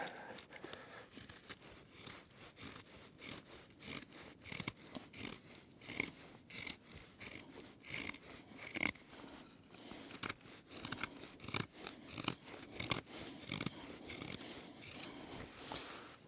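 A very sharp knife shaves thin curls from a piece of wood for a feather stick, repeated short scraping strokes in an irregular rhythm, close and fairly quiet with no talking.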